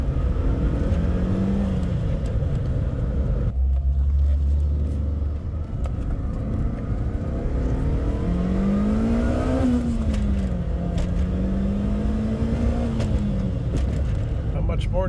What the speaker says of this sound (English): The turbo spools nicely and gets you up to 35 miles an hour on these residential roads with no problem.